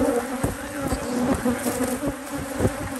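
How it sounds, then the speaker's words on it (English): Angry honey bees swarm around an apiary hive, a dense, steady buzzing close by with individual bees droning louder as they pass near, no talking. "These bees are too mad."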